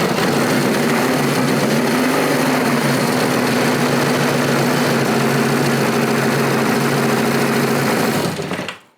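A classic Honda motorcycle engine runs steadily and loudly up close with a busy, fast mechanical chatter, holding an even idle for about nine seconds before cutting off abruptly.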